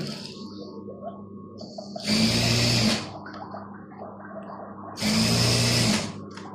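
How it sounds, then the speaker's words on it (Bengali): A sewing machine stitches cut burqa fabric in two loud, rapid whirring bursts about a second long, separated by quieter handling and faint background noise, with no one speaking. "এখন আমি সেলাইয়ের জন্য মেশিনে বসে গেলাম"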